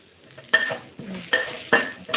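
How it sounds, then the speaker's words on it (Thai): Shallots and dried chilies stir-frying in a pan for a stir-fried liver dish, with a soft sizzle broken by three or four sharp scrapes and clinks of a spatula against the pan. "จะผัดหอม แดงกับพริกแห้งให้มันหอมหอม"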